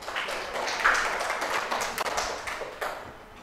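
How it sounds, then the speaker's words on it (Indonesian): Classroom applause for a group of students, a short burst of many hands clapping in a dense, bright patter that continues steadily for a few seconds. "Tepuk tangan untuk kelompok 2"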